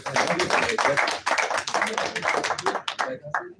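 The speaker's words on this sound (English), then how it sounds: "Can we give him another round of applause?" Scattered clapping from a conference audience at an international postgraduate colloquium, uneven and patchy, with a voice speaking through it and the applause thinning toward the end.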